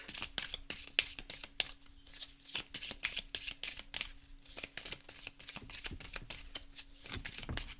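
Oracle cards being shuffled for a tarot-style reading, a steady run of quick papery riffles and flicks close up, continuing alone without talk.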